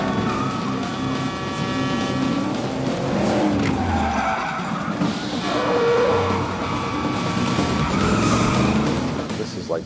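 Stunt cars skidding during a choreographed chase for the film Gone in 60 Seconds, with precision drivers at the wheel; loud, continuous tire and engine noise fills the whole stretch, with swelling skids and passing roars.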